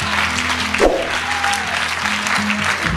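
Steady, dense applause from a large crowd, continuous and loud throughout with a low hum underneath.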